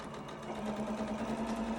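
A sewing machine stitches a quarter-inch seam allowance on a fabric face mask with a filter pocket, a steady close whirring hum running continuously with no pauses and no talk.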